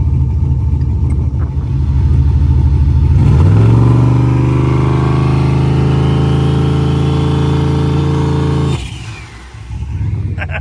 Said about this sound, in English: I think he's going to bring it up on the brake.